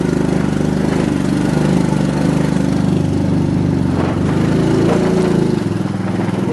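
A motorcycle engine runs steadily while riding along a road in Perambra, Kerala, a continuous loud low drone with slight variations in pitch and no pauses.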